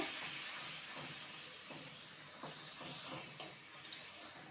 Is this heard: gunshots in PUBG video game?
no